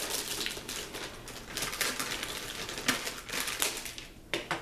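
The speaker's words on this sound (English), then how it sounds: "let's quickly slice and dice this plastic that comes on this drive" Crisp crackling and rustling of plastic wrap being cut and peeled off a WD My Book Pro 12TB drive, in quick irregular bursts up close.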